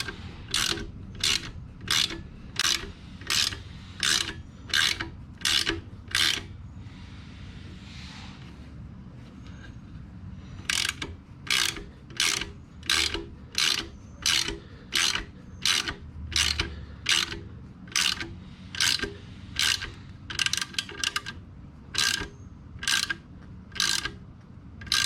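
A ratchet wrench clicks in quick rhythmic bursts, pausing briefly mid-way, while a Vance & Hines slip-on exhaust is tightened onto a Honda Rebel 1100 motorcycle; the clicks are close and crisp, with no talking.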